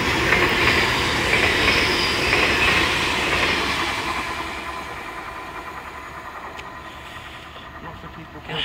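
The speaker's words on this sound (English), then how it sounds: "That was probably the train that went up to Hull, coming back." A train rushes through Welwyn North station with a loud, steady roar and clicking wheels over rail joints. The sound slowly fades over about eight seconds.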